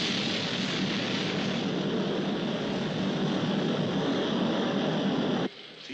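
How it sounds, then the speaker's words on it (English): A rocket launch from a TV drama roars as one loud, dense, continuous rumble that holds steady, then suddenly drops away near the end. "We have liftoff."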